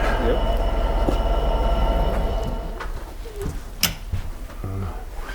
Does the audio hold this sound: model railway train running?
yes